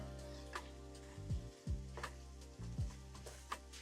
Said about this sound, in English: So I'm just gonna start breaking apart the meat.